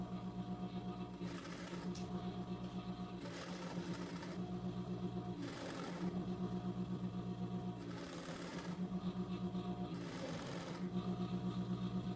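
A coverstitch sewing machine stitches a t-shirt, running in steady humming bursts of rapid needle chatter, each lasting a second or two and separated by brief pauses; it is close and even in loudness.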